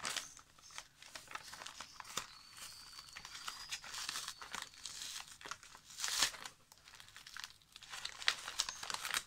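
A birthday mail envelope being opened by hand, with close paper crinkling, rustling handling and sharp tearing bursts, including a louder rip around the middle, set apart by quieter gaps and no speech.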